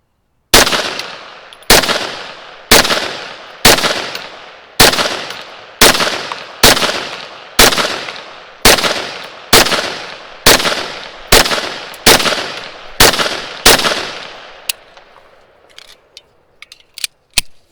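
Sharp, loud gunshots from a Rock Island Armory XT 22 Magnum Pro, about fourteen evenly spaced rounds each trailing into a brief echo, followed by faint mechanical clicks.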